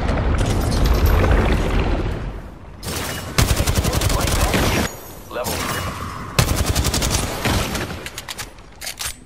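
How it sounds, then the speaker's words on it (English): Enemy gunfire in Apex Legends, loud bursts of rapid automatic fire and heavy shots in clustered volleys with brief gaps, mixed with explosive booms and game effects. "The enemies are shooting at me."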